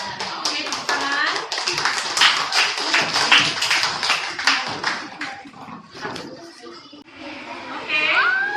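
Hands clapping together in a classroom, a burst of applause from a group of students with loud, irregular claps running throughout, and voices and chatter mixed in underneath.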